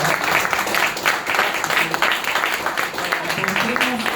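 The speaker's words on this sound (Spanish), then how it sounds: "le quiero pedir un aplauso, por favor" An audience applauds at a book presentation held in a bookshop, a dense, steady wash of many hands clapping throughout, with voices faintly mixed in beneath.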